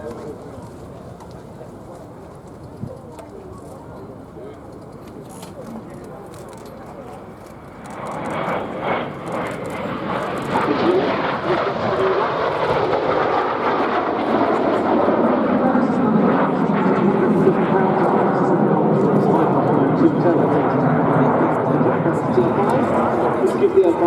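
Jet Provost trainer jet at a Duxford airshow display, its engine roar swelling from quiet into a loud sustained whoosh as it passes and lingers, with an announcer talking over it.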